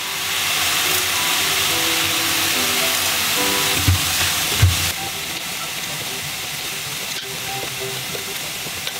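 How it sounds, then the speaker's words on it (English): One tablespoon of mustard seeds hits a hot pan, setting off a loud, steady hiss and sizzle, with a couple of sharper pops and crackles near the middle. "Okay, I'm gonna add in the mustard seeds now, one tablespoon."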